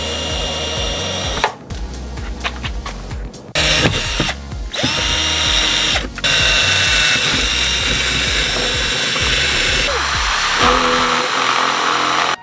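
A power drill bores a pilot hole in a Jeep JK door while fitting a metal door handle, whining loudly and close in several short bursts before settling into one long, steady run.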